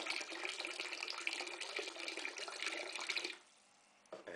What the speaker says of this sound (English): I'm filling up this barrel at the moment.